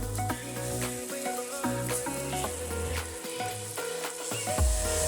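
Vegetables sizzle in a pan as red wine is added for a pizza sauce, a steady moderate frying hiss running under prominent background music.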